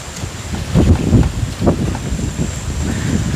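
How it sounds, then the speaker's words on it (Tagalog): Strong gusting wind buffeting the microphone outdoors, low rumbling bursts that swell and fade in uneven surges over a few seconds, fairly loud and close. "Lakas ng hangin, no?"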